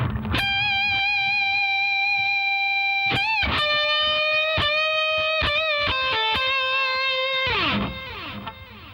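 A sustained, harmonically rich distorted electric guitar solo phrase, with bends and quick note changes, held notes ringing loudly before a scraping slide ends the phrase.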